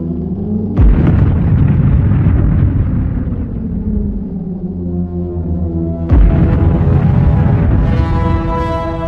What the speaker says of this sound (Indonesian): peristiwa ledakan mahadahsyat atau yang bisa disebut dengan Big Bang